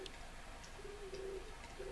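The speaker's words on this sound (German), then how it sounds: "Kann ich die Taube killen?" A pigeon in the game Zelda: Breath of the Wild gives soft, low cooing calls in a couple of short repeated phrases over a quiet ambient background, with no talking.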